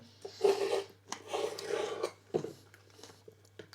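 A knife cuts a green pepper into small pieces in a home kitchen, giving a few rasping, scraping strokes in short bursts, close and moderately loud, with no speech.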